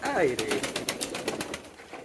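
Pigeons cooing nearby, a warbling coo at the start followed by rapid fluttering pulses like wing flaps, with a voice talking over part of it.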